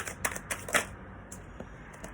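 Tarot cards being shuffled in several quick riffling bursts, close and fairly quiet, then a few softer handling sounds.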